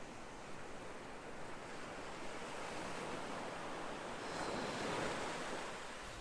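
Ocean waves wash steadily as a soft, broad hiss of surf with wind, swelling slightly louder toward the end, distant and continuous with no voices.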